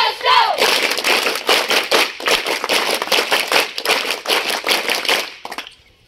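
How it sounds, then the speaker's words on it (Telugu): A college audience at a wildlife protection awareness event applauds loudly and close by. The dense clapping swells and dips in waves, then stops abruptly near the end. "వీడియో చూపించినటువంటి వాళ్ళకు ఒకసారి గట్టిగా చప్పట్లు కొట్టండి"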